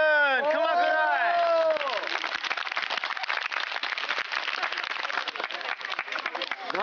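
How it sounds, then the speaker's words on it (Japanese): Loud audience applause greets a magician's entrance, dense clapping filling the room for several seconds; the first moments are layered with sweeping, gliding musical tones that fade as the clapping carries on steadily. "大きな拍手で迎えください"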